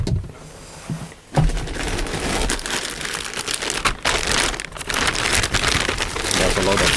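Plastic packaging crinkles and rustles steadily and close by while a Commodore 64 Datasette is unpacked, with a brief pause before the crumpling resumes and carries on continuously.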